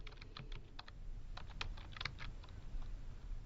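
Quick, light keystrokes on a computer keyboard, a short burst of close, irregular clicking with no voices.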